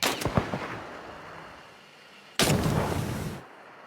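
Gunfire and explosions in the video game Hunt Showdown 1896: a quick cluster of cracking shots, a quiet stretch, then one loud booming blast that rolls on for about a second before fading.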